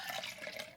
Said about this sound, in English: Now let's just pour this in a little bowl.